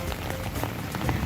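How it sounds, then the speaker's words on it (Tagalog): Rain falls steadily on an outdoor surface with a dense, even patter, close and continuous for a brief moment, with a faint voice in the background. "Ulan na ulan pa talaga."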